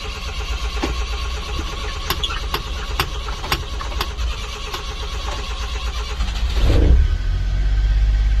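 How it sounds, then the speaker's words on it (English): A carbureted Suzuki Super Carry mini truck engine cranks in the cold with a rhythmic, ticking turnover for several seconds, then fires and catches into a louder, steady running idle, heard up close. "Takes a little bit of a long crank in the cold, but once it's running, runs nice and smooth"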